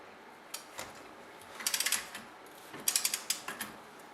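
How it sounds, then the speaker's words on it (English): Quick bursts of ratcheting clicks from a torque wrench working a wheel nut on a car, two clusters of rapid ticks with a few isolated clicks between, close and fairly quiet. "I'm going to use my torque wrench again"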